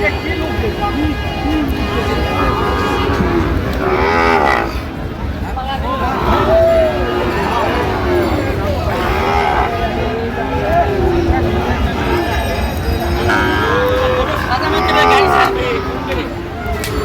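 A Sahiwal bull lowing at a busy cattle market, several drawn-out moos rising over constant crowd chatter and outdoor noise.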